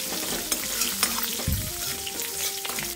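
Green chili, dried red chili and asafoetida stir-fry in a pan. A loud, continuous sizzle crackles throughout, broken by irregular scraping stirs and a brief low thump.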